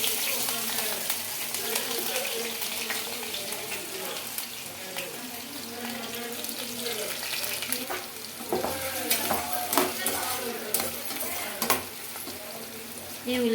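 Onions and chillies sizzle in hot oil while a spoon stirs and scrapes the pan, with brief splashy bursts and some background talk.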